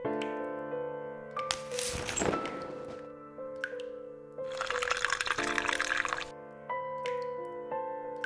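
A character urinates into a toilet in the video game The Cat Lady, a soft trickling, splashing stream in two bursts over quiet sustained background music, with no talking.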